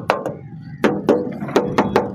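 Hollow knocks by hand on the body panel of a 1988 Suzuki FX, about seven sharp raps in uneven pairs and singles, close and fairly loud against faint background noise.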